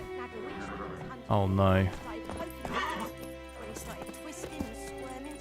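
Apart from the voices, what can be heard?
horse neighing and hooves clip-clopping in The Witcher 3 video game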